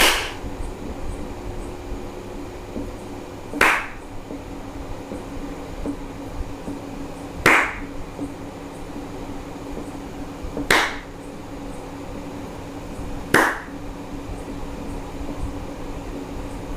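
Hand clapping in a quiet room near an LED smart bulb, five single sharp claps spaced a few seconds apart, each loud and crisp against a low steady background hum.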